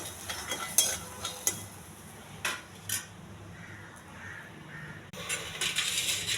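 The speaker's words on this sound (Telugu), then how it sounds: "కొద్దిగా చింతపండు, కొన్ని పచ్చిమిర్చి కూడా వేసి బాగా వేగించాలి." Peanuts roasting in a pan with tamarind and green chillies, a soft steady sizzle under intermittent clinks and scrapes of a spoon against the metal pan, no talking.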